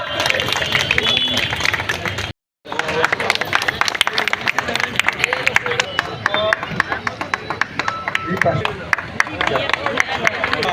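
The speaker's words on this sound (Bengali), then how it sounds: "করতালি হয়ে যায়" Audience clapping at the inauguration of a Jagaddhatri Puja held by a traders' association in Boral, a dense steady patter of many hands with crowd murmur, briefly cut off near the start before resuming loudly.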